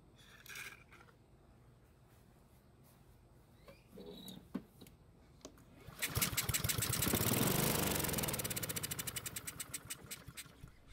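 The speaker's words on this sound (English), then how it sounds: "Luckily, it started and ran for a few seconds on the fuel that we put into the carb's throat." A Husqvarna lawn mower engine sputters and catches after some clicks and clatter, then roars loudly with a rapid chugging rhythm for a few seconds on fuel poured into the carburetor throat before sputtering down.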